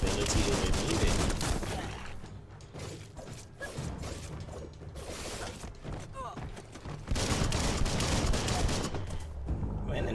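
Rapid bursts of gunfire and mechanical clatter from the video game Biomutant, loud and dense, with a voice talking over parts of it.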